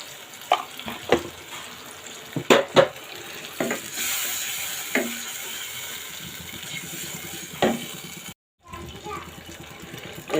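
Shing fish dropped into a hot pan of ginger, garlic and cumin paste, a steady sizzle and frying hiss with a few louder stirring clatters, close by and with no talk.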